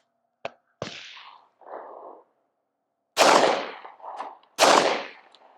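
Pistol shots fired outdoors at a 45-yard target, two faint early reports followed by two loud, close cracks each trailed by a rolling echo off the range.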